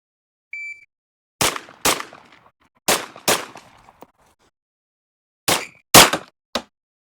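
Glock 17L pistol fired in a slow string of seven sharp, loud shots at irregular intervals, some in quick pairs, each with a short ringing decay, and no talking.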